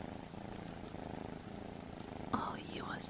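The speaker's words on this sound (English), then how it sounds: "You hear him purring?" Close, steady purring from a cat, a soft rhythmic rumble throughout with a brief soft vocal sound near the end.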